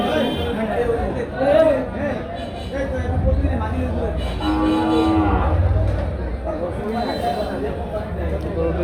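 A bullock lows amid steady crowd chatter and people talking nearby at a cattle market in Chandina.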